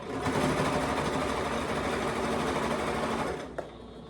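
A sewing machine back stitching a seam, a close, loud, steady mechanical whir that runs for several seconds and then stops with a small click.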